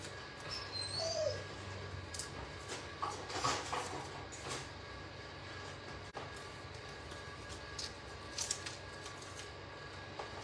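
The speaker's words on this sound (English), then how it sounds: "feeling sorry for my poor doggy that you hear crying in the background" Somewhere in the background a dog whimpers and cries in faint, thin whines, under steady room noise with a few small clicks and rustles close by.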